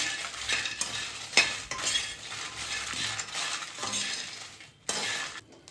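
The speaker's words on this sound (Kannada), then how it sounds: "ಅದನ್ನು ಸ್ವಲ್ಪ ಬಿಸಿ ಹಾಕೊಂಡು ಫ್ರೈ ಮಾಡ್ಕೊಳ್ಳೋಣ" Ridge gourd pieces being stirred and fried in a pan for a Karnataka-style palya, with a steady sizzle, scraping of a spatula and occasional metallic clinks against the pan, no voices.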